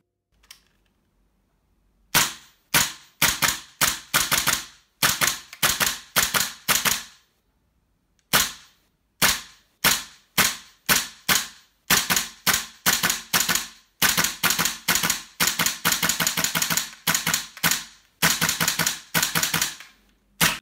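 A GHK M4 airsoft rifle fires in rapid strings of sharp, snappy clicks, close and loud. The bursts are separated by short gaps and a longer pause early on.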